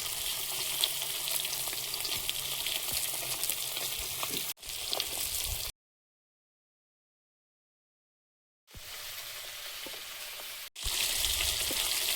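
Large pieces of fish fry in hot oil in a home kitchen, giving a dense, even sizzle. The sound breaks off briefly, falls silent for a few seconds and then returns, with no one speaking.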